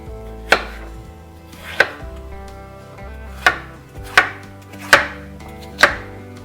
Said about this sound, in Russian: Картошку нарезаю небольшими кубиками.